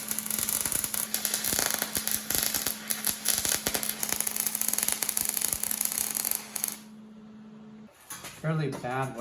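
Arc welding a 3/16-inch steel crossmember for a C3 Corvette LT1 swap: dense, continuous crackle and sputter with a steady hum, loud and close, cutting off near the end before brief talk.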